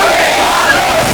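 A large crowd at a religious rally roars a slogan back in unison, a dense sustained wall of voices filling the whole short moment.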